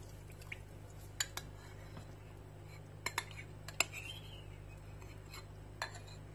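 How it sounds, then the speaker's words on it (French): Coconut oil and honey going into a granola mix, heard as light clinks and taps of a spoon on a bowl and a soft drizzle, sparse and quiet over a low steady hum. "je vais venir rajouter en fait l'huile de coco et le miel"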